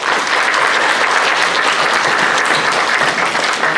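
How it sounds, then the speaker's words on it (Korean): Steady, dense applause from a church congregation welcoming four new members, filling the room evenly at full volume from start to finish with no voices rising above it. "한번 우리 같이 박수로 환영합니다"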